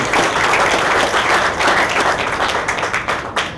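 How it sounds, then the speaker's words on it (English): Audience at a 2012 film festival awards ceremony applauding the festival jurors, a dense, steady wash of clapping from a large crowd that stays loud throughout and tapers slightly near the end. "Let's give them a round of applause"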